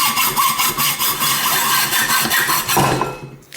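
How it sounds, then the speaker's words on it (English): A hacksaw cuts a metal rod for a homemade derailleur hanger alignment gauge, giving fast rasping back-and-forth strokes, close and loud, that trail off as the cut finishes. "And then I'll use a hacksaw to cut that right there."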